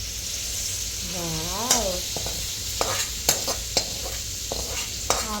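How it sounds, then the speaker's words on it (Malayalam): Mustard seed tempering goes into mango pulissery, giving a continuous loud sizzle with a few sharp utensil clinks and brief background voice sounds. "ആ മാമ്പഴ പുളിശ്ശേരിയിലേക്ക് കടുക് താളിച്ചത് ഇടാൻ വേണ്ടി പോവാണ്."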